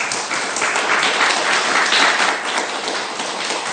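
An audience at a lecture applauds steadily in thanks, a dense, even wash of clapping filling the room throughout with no speech over it.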